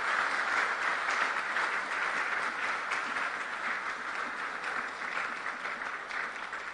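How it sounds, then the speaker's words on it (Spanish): A seated audience gives a long, even round of applause at a gathering celebrating Israel Day, a steady dense patter of many hands at moderate distance with no talk over it. "démosles un aplauso a ellos nuevamente"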